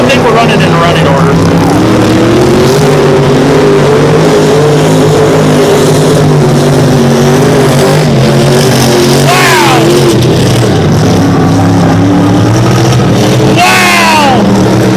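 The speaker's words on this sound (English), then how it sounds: "Look at him drifting. He is drifting all the way around." Mud bog truck engine roaring and revving hard as it drifts around the pit at a mud bog race in Orangeburg, loud and sustained with rising pitch swings, under excited commentary.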